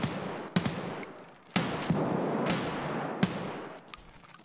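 Gunfire from the video game Escape from Tarkov rings out as several sharp, distant shots spaced over a few seconds, each trailing into an echoing tail over a steady ambient hiss.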